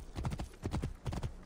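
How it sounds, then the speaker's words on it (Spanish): Horse galloping in the video game Assassin's Creed Origins, rapid clip-clopping hoof beats in quick groups of three, fairly close and steady, with no talk over them. "Inmortal el caballo ese"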